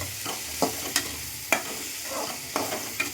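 Tomatoes fry in a pan of masala for mutton curry, with a spoon stirring and knocking against the pan in a handful of sharp strokes over a soft, steady sizzle.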